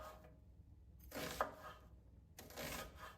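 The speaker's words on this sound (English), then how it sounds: "It's just how I've always cut onions." A knife cuts an onion in a home kitchen, with two separate bursts of slicing and scraping on a board and quiet gaps between them, faint and close with no talking.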